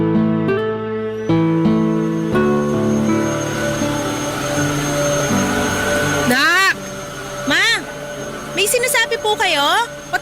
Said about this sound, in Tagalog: Pasensya na po, medyo maingay kasi tong vacuum eh.